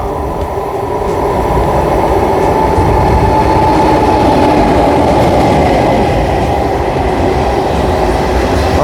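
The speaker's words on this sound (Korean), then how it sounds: "지금 기차가 오고 있는데 이거 말고 저는 다음 거를 타면 돼요" An SRT high-speed train pulls into a railway station with a loud, steady rumble and rolling rail noise that holds throughout.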